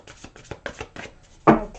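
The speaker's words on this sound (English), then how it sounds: "One more little shuffle here for Taurus" A deck of angel cards is shuffled by hand, a handful of quick papery riffles and taps in an uneven rhythm, ending in one louder slap of the cards, close up and with no talking.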